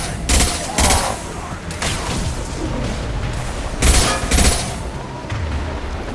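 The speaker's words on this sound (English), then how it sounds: "Firing a high impact shot." Weapon fire in Mass Effect 2 Remastered combat, a few heavy, booming shots in two pairs with rumbling battle noise between, loud and near.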